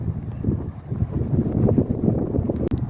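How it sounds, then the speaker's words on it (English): Wind gusting across an open cliff-top countryside path on the Suffolk coast near Kessingland, a steady low rumbling buffet against the microphone that swells and eases over a few seconds, with no one speaking. "The wind's picking up a bit now."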